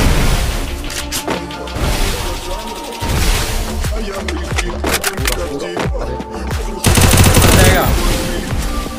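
Rapid bursts of gunfire in the mobile battle royale game Free Fire, loud and close, with repeated sharp shots and heavy impacts over continuous game sound.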